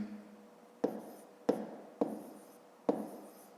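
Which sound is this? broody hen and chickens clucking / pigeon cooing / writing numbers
writing numbers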